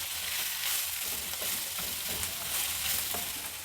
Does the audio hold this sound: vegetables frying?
yes